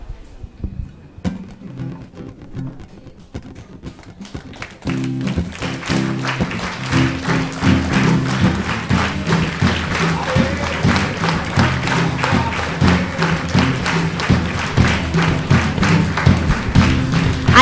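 Church audience clapping hands together in a steady rhythm at a missionary's service, sparse taps at first and then loud repeated beats over music, with a few voices.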